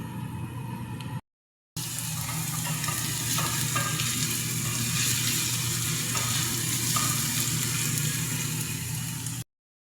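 Chopped onion and garlic sauté in a pan: a steady, close sizzle with scraping stir strokes throughout, broken only by one brief silent gap near the start, and no voices.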